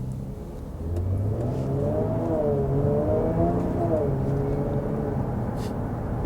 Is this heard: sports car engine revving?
yes